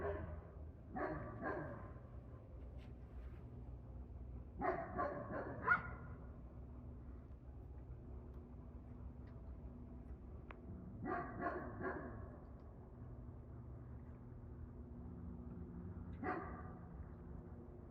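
Farm dogs bark at coyotes on an evening farm, sending out short clustered bursts of two to four barks separated by long quiet gaps, sounding moderately distant with no talk.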